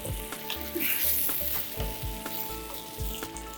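Chunky tomato sauce with olives and tomato puree bubbling and sizzling in a pan, with a steady close-up fry hiss and soft scraping from stirring throughout.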